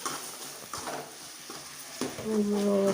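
Tomatoes, onion and garlic sauté in a pan for a nethili fish kulambu, faint sizzling under a few soft spatula stirs, then a brief high tonal sound near the end, with no speech.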